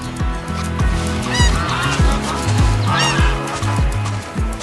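Cartoon geese honk loudly and repeatedly in quick succession in an animated forest scene, with the nasal calls stacking into a bouncy rhythm.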